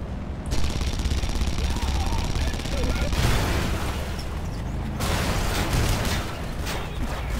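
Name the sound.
gunfire in the video game Red Faction Guerrilla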